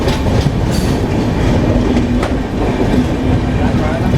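The Tirupati–Puri Express, number 17479/17480, on its first LHB rake, rolls loudly and steadily into platform 1 at Venkatagiri station, with continuous wheel rumble and faint rail clatter close by.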